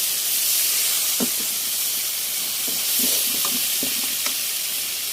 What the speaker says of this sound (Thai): ผัดให้แห้งอีกนิดนึงแล้วก็เก็บใช้จานได้แล้วนะคะ